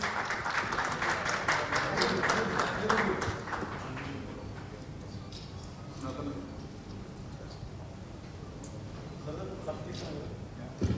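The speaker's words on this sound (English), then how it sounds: "A big round of applause for them, please." Applause from guests at a grand residence launch event opens strongly for a few seconds, then fades into a quieter murmur of talk and scattered claps.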